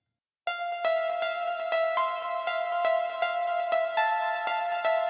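Bright synth keys pluck a steady repeating pattern of short, evenly spaced notes with ringing overtones, played alone and moderately loud for several seconds.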